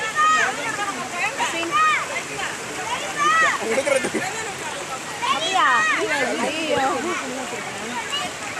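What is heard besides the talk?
flowing river water at Papanasam bathing spot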